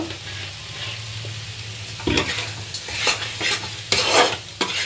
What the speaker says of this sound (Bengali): এবার একটা চিলি পনিরের ফ্লেভার আনার জন্য অল্প সয়া সস দেবো এটার মধ্যে